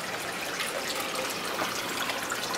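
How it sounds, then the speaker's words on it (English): Water pours steadily from an aquaponic system's siphon into a 12-gallon sump tank, a continuous close splashing gush with no pauses. "We got the siphon running right now."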